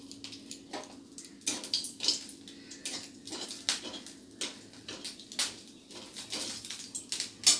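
A dried red chili frying in hot oil for tempering gives light, irregular sizzling crackles and pops at low volume, with faint clinks in between.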